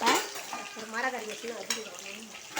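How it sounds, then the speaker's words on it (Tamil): Marinated beef dropped into hot oil fries with a steady sizzle, with a few clinks of a utensil against the pan and a sharp knock near the end. "இப்போது ஆயில் நல்லா ஹீட் ஆனதுக்கப்புறமா நம்ம இது தடவி வச்சுருந்த பீஃப் எடுத்து எண்ணெயில் போட்டு பொரிச்சுக்கலாம்."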